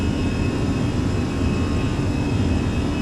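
Airbus A320 jet engines spooling at takeoff power in Microsoft Flight Simulator, a steady loud broadband roar with a deep low rumble that holds constant throughout.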